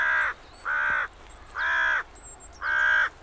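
A crow in the Harz mountains caws four times in an even rhythm, each harsh call loud and close with brief quiet gaps between them.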